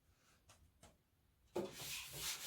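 A 120 grit sanding disc working on wood while a circus wagon is built, starting with a few light scrapes and then breaking into a loud, steady, close-up rasp.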